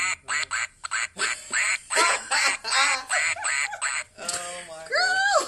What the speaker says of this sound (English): Sound effects box. That's a cup of hands. That's cup and hands. What? That's a duck.